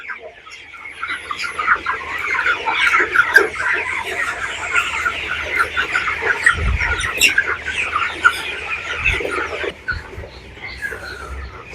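A flock of 21-day-old broiler chickens clucks and squawks continuously inside a poultry farm shed, a dense, busy chorus at close range, with a voice speaking over it.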